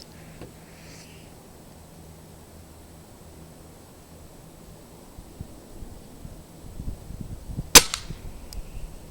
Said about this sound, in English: We just shot the Crosman, Nitro Venom.